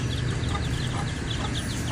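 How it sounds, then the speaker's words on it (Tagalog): Two mother hens cluck steadily in a farmyard, their repeated clucks sounding close and fairly loud over a constant background of other fowl. "Ayan sa ating 2 inahing manok."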